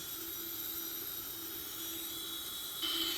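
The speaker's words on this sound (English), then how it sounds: "So you can see the right wing engine now starts spinning" A Boeing 777-300ER's right wing jet engine spools up during start, giving a loud, steady turbine whine and roar that holds level and then rises slightly toward the end.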